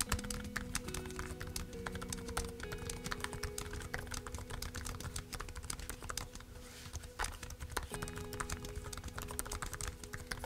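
Typing on the keyboard of a Samsung Galaxy Book Pro 360 laptop, with a steady, dense patter of soft key taps over low background hum, continuous and close, with no talking.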